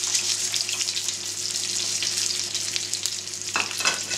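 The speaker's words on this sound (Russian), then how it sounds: "Разогрели сковородочку с таким хорошим количеством масла." Chicken fillet, cooked sous vide, fries in a pan with a generous amount of oil, giving a steady, dense sizzle that holds close and even from start to finish, with no voices.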